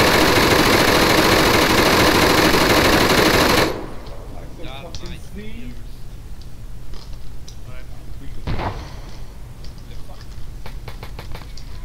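Sustained automatic gunfire in the Arma 3 military shooter, loud and dense for a few seconds before cutting off abruptly, leaving low engine rumble, scattered distant shots and faint voices.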